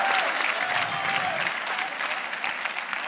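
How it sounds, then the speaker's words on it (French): Applause from a comedy club audience, a dense steady wash of many hands clapping at fairly even loudness, with a faint voice briefly audible over it. "applaudissez-vous, lui qui s'en va"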